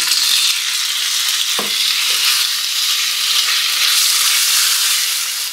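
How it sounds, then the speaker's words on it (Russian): Steady, loud sizzling of chicken frying in a little oil in a pan until golden, a continuous hiss with a brief stir or scrape partway through. "И обжариваем курочку до золотистого цвета."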